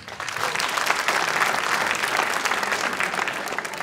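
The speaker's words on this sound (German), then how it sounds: "Wer ist nicht aus Berlin? Klatschen." A theatre audience at a live comedy talk-show event bursts into sustained, dense clapping that holds at an even level throughout, with no voices over it.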